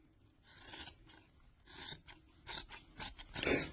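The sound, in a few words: scissors cutting excess fabric off a sewn sword cover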